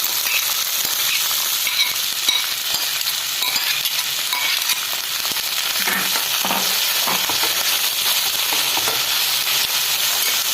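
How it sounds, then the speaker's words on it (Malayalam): Chopped okra and onion hit a hot pan just after mustard seeds have popped for a Kerala vendakka mezhukkupuratti. A loud, dense, steady sizzle runs throughout with faint scraping of stirring. "ഈ അരിഞ്ഞു വെച്ചിരിക്കുന്ന വെണ്ടയ്ക്ക സവോള ഇത് ഇട്ട് കൊടുക്കാം."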